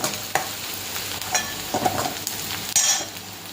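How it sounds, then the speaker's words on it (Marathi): Golden-brown onions with turmeric are stirred while frying in a pan, a steady sizzle under repeated scraping and clacking strokes of the spoon, one sharper knock near the end. "कांदा छान थोडासा गोल्डन ब्राऊन झाला की त्याच्यामध्ये आपल्याला हळद टाकायची आहे छान मिक्स करूया"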